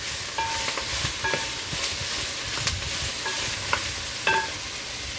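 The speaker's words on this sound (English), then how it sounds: "So I just saute in this for a bit" Green banana skin sautéing in a pan for Jamaican fish tea: a steady, fairly loud sizzle and hiss with scattered scraping stirs and a few brief clinks throughout, no voices.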